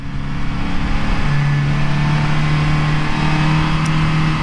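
A 2017 Polaris Slingshot SLR drones loudly and steadily under acceleration through a turn with traction control off, its engine note holding a sustained hum with slight pitch rise.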